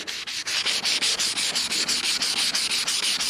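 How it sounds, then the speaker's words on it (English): Steady back-and-forth rubbing strokes of wet sanding a knife blade with 12,000-grit paper dipped in water, a rhythmic scratchy sanding sound repeating evenly and close by. "It's called wet sanding."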